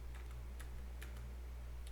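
A worn computer keyboard gives light, irregular clicks and taps over a steady low electrical hum. The keystrokes are faint and scattered, and no one speaks.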